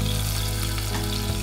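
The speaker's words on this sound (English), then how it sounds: "The secret here, we need to pan fry the lamb before baking." Lamb shank pan frying for a Thai massaman curry, a steady loud dense sizzle of hot fat, close and continuous with no voices.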